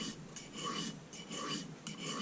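A knife edge is honed on a soft Arkansas stone in repeated rasping strokes, each a gritty scrape with short pauses between, close and fairly quiet.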